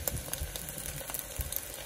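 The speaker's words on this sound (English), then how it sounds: "one is sizzling in the grease right now, in the oil" A Panamanian corn tortilla fries in hot oil with a soft, steady sizzle and crackle, quiet and close, with small pops scattered throughout.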